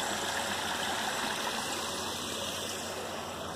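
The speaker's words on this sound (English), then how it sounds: "we do get the sound of water" Water flows steadily at a covered-over pond, a constant close rushing and trickling wash that holds even and unbroken throughout.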